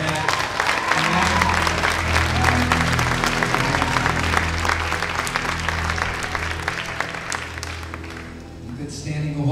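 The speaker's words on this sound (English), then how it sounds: "you can give the Lord a better hand clap than that" A church congregation gives a hand clap during a Sunday worship service, sustained dense clapping throughout over a steady low organ or instrumental drone, tapering slightly at the very end.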